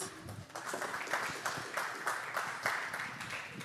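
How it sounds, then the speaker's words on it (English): A meeting room audience applauds to welcome a new leadership team, giving steady, moderately distant clapping that fills the room evenly throughout. "And another round of applause to welcome this new leadership team that you all have."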